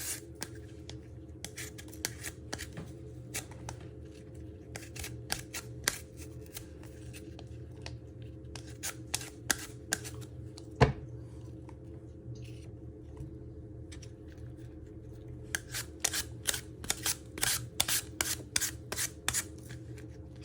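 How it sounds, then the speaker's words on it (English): An apple being peeled with a hand peeler over a chopping board: faint, repeated soft scraping strokes in irregular bursts against steady low background hum, close but quiet, with no talking. "So you're just going to move it up and down using a peeler."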